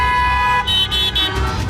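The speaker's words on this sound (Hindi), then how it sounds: "कहीं हॉर्न बजाकर प्रोटेस्ट" Car horns blare in protest at a farmers' demonstration, sounding as a sustained tone and then several short, repeated blasts over a steady traffic rumble.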